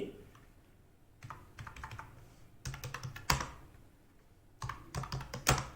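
A line is retyped on a computer keyboard during copy-paste online work, with close, crisp keystrokes in several quick bursts separated by short pauses over a faint room hum.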